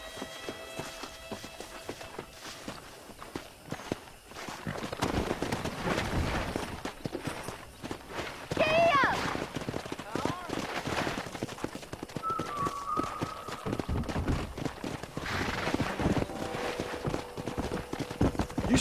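Horse hooves clip-clop in a quick galloping rhythm over a busy Red Dead Redemption game soundscape with music and effects, fairly close and steady.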